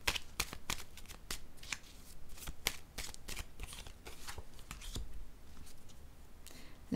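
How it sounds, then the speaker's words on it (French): Oracle cards being shuffled and drawn: close, soft papery riffles and flicks repeating in quick uneven strokes, quiet and with no talk. "Allons-y, je vais piger une autre carte."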